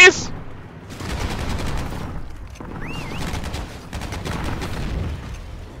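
Bursts of automatic gunfire rattle in the World War II shooter game Heroes & Generals, several rapid volleys separated by short pauses, loud and close, with a brief voice and an electronic tone in between.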